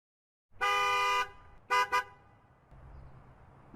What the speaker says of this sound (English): Also I added some vehicle horns.